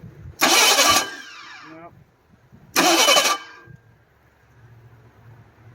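A Ford Bronco 2 engine with a sticky starter solenoid cranks in two short, loud bursts about two seconds apart without catching, each followed by a clanking rattle. A voice speaks briefly nearby.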